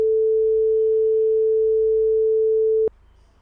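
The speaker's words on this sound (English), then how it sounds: "I have here two tones that differ by a frequency of 3 Hz." A steady pure electronic tone holds at one pitch for nearly three seconds, then cuts off abruptly with a small click.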